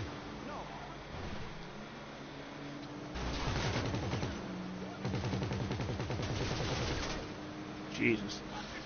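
A .50 calibre gun mounted on an Insurgent armoured vehicle firing in GTA, rapid heavy bursts in two long stretches with engine rumble underneath, players chatting over it.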